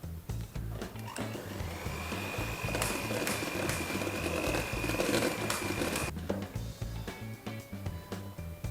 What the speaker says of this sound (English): I'm going to use electric whisk. Mix it up until all the butter's fully incorporated